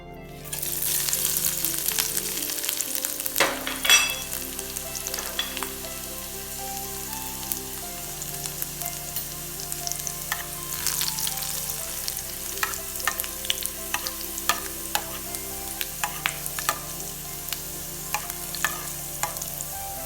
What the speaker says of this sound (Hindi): बघार हम इस तरह बनाएंगे कि इसमें हमने थोड़ा सा ऑयल डाला, इसको थोड़ा गर्म होने दें